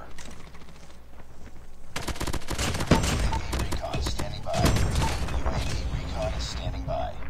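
Rapid bursts of QXR submachine gun fire in Call of Duty Mobile multiplayer, loud and close, with long sustained strings of shots broken by short gaps and mechanical reload clicks between them.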